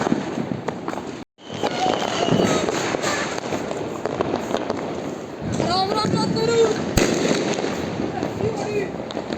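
Sky shot fireworks and firecrackers going off during Deepawali celebrations, with a dense, continuous crackle of bursts and bangs filling the scene and children and adults talking and calling out underneath.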